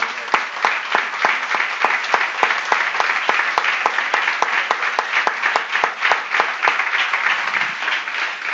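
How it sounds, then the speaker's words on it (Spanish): A church congregation claps in steady, fairly fast rhythmic applause for several seconds, a dense, even burst of many hands close by with no voices. "démosle aunque sea hoy un aplauso al Señor"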